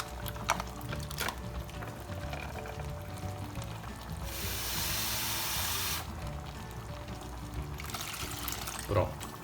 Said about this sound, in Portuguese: coloca um pouquinho d'água dentro do pacote